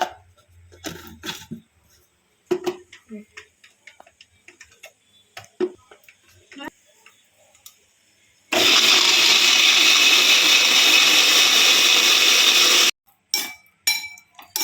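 A few light clinks and taps, then a mixer grinder roars loudly for about four seconds grinding a mushroom soup paste with a little water, before stopping, followed by more small knocks.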